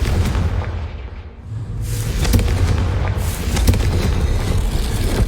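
A Confringo fire spell bursting in Hogwarts Legacy, heavy booming explosions that swell and roll loudly through the clip with a deep rumble and no speech.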